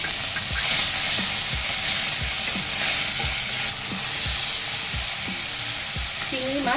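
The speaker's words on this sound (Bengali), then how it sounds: "চিংড়ি মাছগুলোকে ভালো করে ভেজে নেব" Prawns coated in salt and turmeric fry in hot oil in a pan with dried red chillies, giving a steady loud sizzle with regular scraping stirs from a spatula, close up and without voices.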